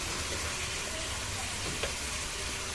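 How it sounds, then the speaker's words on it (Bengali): Green chili with ground coriander and chili powder frying in a pan for a Bengali cabbage curry, a dense, even sizzle running throughout with a faint stir or two and no talking. "নেড়ে চেড়ে মশলাটাকে খুব ভালোভাবে কষিয়ে নেব।"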